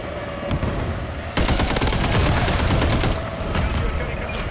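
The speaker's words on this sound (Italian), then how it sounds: "Gli sparo sul cadavere, li faccio patire!" Rapid automatic gunfire in Call of Duty MW3 erupts mid-clip as a dense burst of repeated shots, loud and close, after quieter game ambience, then fades back to background.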